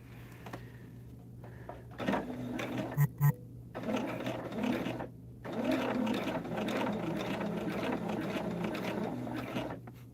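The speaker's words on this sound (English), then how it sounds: "we are going to sew straight on the foundations" A sewing machine stitches a quilt's foundation pieces close up in several short and longer runs, with a rhythmic mechanical whir and clatter, a few brief clicks and a faint steady hum.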